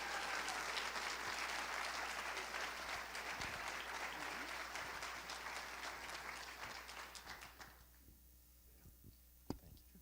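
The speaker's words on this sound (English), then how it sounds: "let's hear a round of applause for the 2015 ICE Educator of the Year, Mr. Michael Biondo." Audience applause for the 2015 ICE Educator of the Year at a closing session, steady dense clapping that thins out and fades near the end, leaving a few scattered claps.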